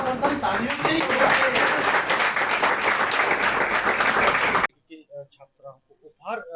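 Children at a school event clap in a loud, dense burst of applause for several seconds that cuts off abruptly, followed by someone speaking alone.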